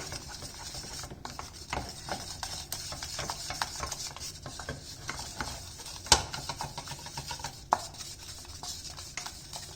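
Steady scraping and sloshing of a spoon working thick homemade modelling dough around a saucepan, with soft clicks and a faint sizzle underneath, continuous throughout.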